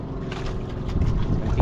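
Small fishing boats head back to shore on open water after a storm. Their engines give a steady low motor drone, with a buffeting of wind on the microphone that swells slightly toward the end.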